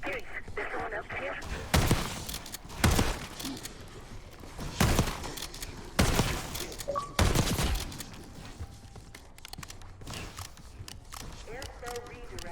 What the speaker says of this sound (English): Hearing gunfire? Yeah. Sounds like it's coming from one of the lower floors.